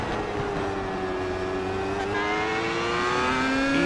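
A race car at Road America drives hard out of turn 6, its engine note climbing steadily through the revs at close range, loud and continuous with no voices over it.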